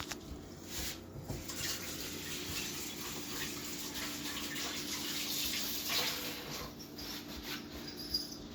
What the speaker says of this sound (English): I'm going to wash this knife off